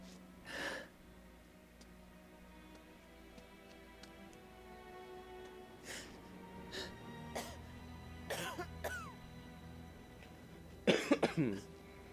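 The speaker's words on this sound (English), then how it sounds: "I'm not coughing to make it ironic." A few scattered coughs, faint and somewhat distant, break through quiet background hum during play of the game inFAMOUS 2, with a louder cluster of rough coughs near the end.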